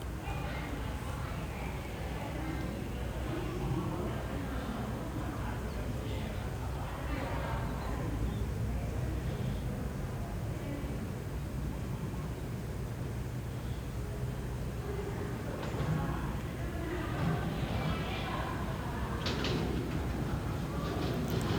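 Bangkok Pink Line monorail train on its opening day, pulling into a busy station: a steady rumble and hiss of the rolling train runs throughout, with some faint clatter on top and indistinct crowd chatter in the background.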